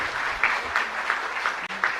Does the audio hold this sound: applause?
yes